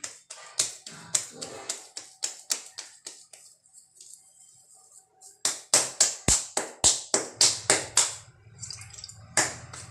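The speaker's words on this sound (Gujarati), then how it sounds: "જો આ રીતે રોટલો ટેકવાનો છે" Hands pat bajra millet dough into a thick rotla flatbread, giving rapid rhythmic slaps in bursts, a pause in the middle, then another quick run of pats, close and crisp without speech.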